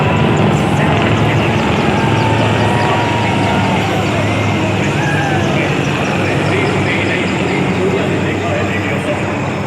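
Prachand and Apache attack helicopters fly over an army parade in Jaipur, their rotors and engines making a loud, continuous roar with a steady beating texture amid crowd noise.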